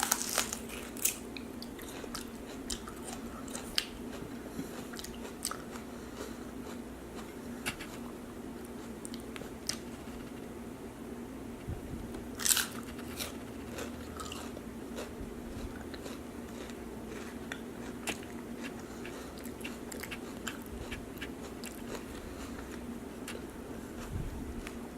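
Close, crisp crunching as celery spread with peanut butter is bitten and chewed, with sharp bites and steady chewing recurring over about twenty-five seconds in a quiet room.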